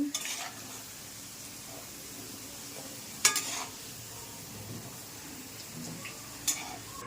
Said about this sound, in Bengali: এবার আমি গোটা জিরে ফোড়ন দিলাম, পাতা ফোড়ন দিলাম, শুকনো লঙ্কা ফোড়ন দিলাম